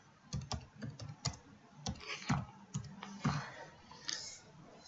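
Computer keyboard keys tapped while typing a map name into a QGIS print layout dialog, a quick irregular burst of close, crisp clicks with short pauses, no voices.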